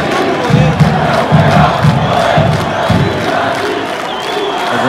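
Vasco football fans cheering and chanting in a packed stadium in Itajaí, Santa Catarina, as players greet them; a loud, continuous crowd roar with rhythmic chant pulses throughout.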